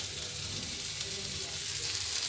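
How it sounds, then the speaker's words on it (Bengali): Kakrol (spiny gourd) fries in a pan with a steady, close, hissing sizzle throughout the short stretch. "এই যে কাঁকরোল ভাজি করি"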